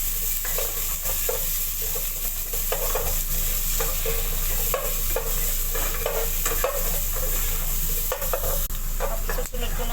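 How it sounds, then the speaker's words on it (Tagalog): Onions sautéing in oil for Filipino chicken tinola give a dense, constant sizzle with frequent scraping stir strokes, close and loud throughout with no voices. "Igisahin ko na yung sibuyas."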